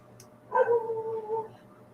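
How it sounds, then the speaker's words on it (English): A dog lets out a single sustained, wolf-like howl lasting about a second, moderately loud against a quiet background hum. "them dogs are howling like wolves"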